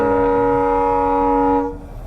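A Bhavnagar–Ahmedabad express train sounds a loud, steady horn for almost two seconds, then the horn cuts off, leaving a lower rumble.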